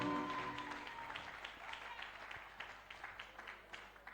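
A church congregation applauds at a presentation of newly consecrated members, a faint, fairly distant patter of many hands clapping that is steady and then thins out slightly.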